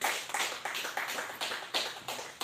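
A church congregation clapping in praise of the Lord, a steady rhythmic applause of many hands beating together in regular pulses, moderately loud and without talk.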